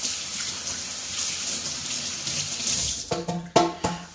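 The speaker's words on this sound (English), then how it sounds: "I'm going to rinse my hands real quick." Tap water runs steadily into a kitchen sink while hands are rinsed, a continuous close splash that gives way near the end to a few sharper clatters and drips.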